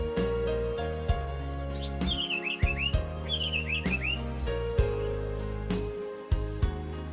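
An African paradise flycatcher at its nest gives several short bursts of quick, rising chirping notes in two clear phrases, mid-distance, over a steady humming backdrop with periodic soft knocks.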